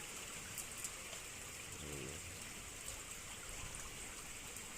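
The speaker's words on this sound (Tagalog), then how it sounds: "Malakas talaga yung volume ng tubig." Steady, broadband rush of fast-flowing water in a drainage canal under construction, constant and fairly loud throughout, with no voices.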